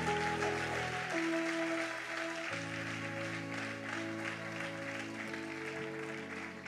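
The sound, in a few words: church congregation applauding God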